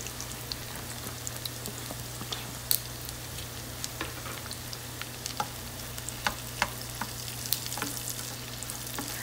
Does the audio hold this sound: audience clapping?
no